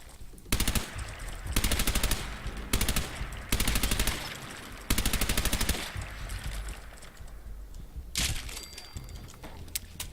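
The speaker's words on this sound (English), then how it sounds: "That juicy little pop at the end is what makes this gun so satisfying" Rapid automatic gunfire in Fallout 4, with several loud, evenly spaced bursts of fast shots separated by short gaps, then a final burst near the end, close and punchy over a game background.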